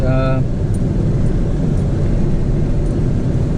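A Chevy Suburban drives on the road, heard from inside the cabin as a loud, steady rumble of engine and road noise that opens with a brief tonal chime.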